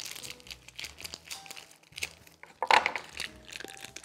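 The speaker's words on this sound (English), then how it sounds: "Just gonna cut it out of the package." A plastic package of fermented soybeans is cut open up close: crinkling, crackling plastic with scattered snips and one sharper rustle near the middle, and no voices.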